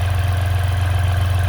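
A 2018 Ram 1500 Laramie 4x4 with a 3.0-litre EcoDiesel turbo diesel idles steadily, giving a close, even low drone with a faint rhythmic clatter throughout.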